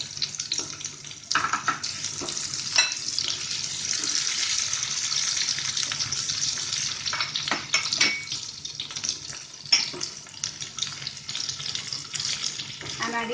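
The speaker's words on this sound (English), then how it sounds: "Now I'm going to add all the vegetables." Vegetables sautéing in a pan for a keto mushroom risotto, a steady broad hiss with sharp clinks and scrapes of the spoon scattered throughout, close and moderately loud.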